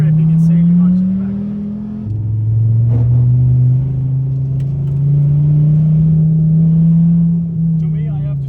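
A Dodge Viper ACR on a road holds a loud, deep engine drone at steady revs, dipping briefly as it shifts pitch and then climbing gradually, close and continuous throughout.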